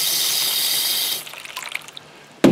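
Water streams steadily onto rocks in a plastic gold pan, a broadband rushing pour for about a second, then fading into scattered small splashes and a sharp knock at the end.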